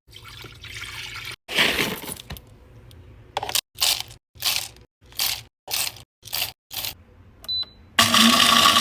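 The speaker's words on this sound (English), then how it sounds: "You're gonna hear the coffee pot making all sorts of noises" A coffee maker grinding whole beans gurgles and hisses with a loud grinding burst early, followed by a series of short rhythmic spurts and clicks.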